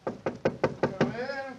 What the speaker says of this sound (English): Let's tap on his study door.